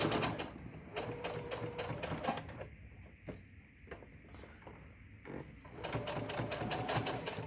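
Sewing machine running in steady bursts as it stitches a fabric face mask with a filter pocket, close and fairly loud, briefly pausing midway before the rapid mechanical whirr resumes.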